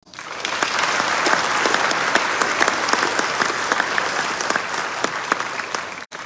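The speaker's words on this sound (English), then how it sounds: "Please join me in another round of applause." Sustained applause fills a hall at a military award ceremony for the Gainey Cup at Fort Benning, a dense steady clapping crowd that swells in and holds before cutting off near the end.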